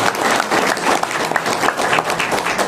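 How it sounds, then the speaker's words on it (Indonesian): A crowd at a PT BES company gathering claps steadily, dense continuous applause filling the room at close range without pause. "Tepuk tangan."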